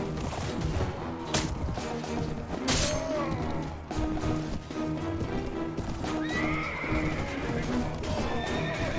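Horses in the Mount & Blade Warband video game, with loud neighs and whinnies over busy clip-clop hooves and battle thuds and crashes.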